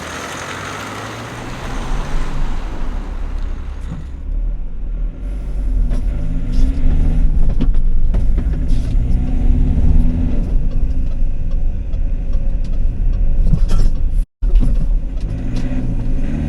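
A car driving along a road heard from inside, with steady loud engine drone and low road rumble throughout, rising as it picks up speed.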